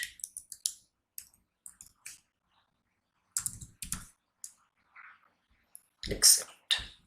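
Someone types a document name on a computer keyboard in scattered short bursts of crisp key clicks, with pauses between them, close and fairly loud in a quiet room.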